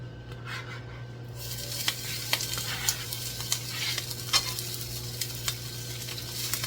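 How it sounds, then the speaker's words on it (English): Kale, onion and tofu sizzling in an oiled pan for a breakfast scramble, a steady close fry with scattered sharp crackles and occasional stirring scrapes, no talk. "All right, we're going to get to frying."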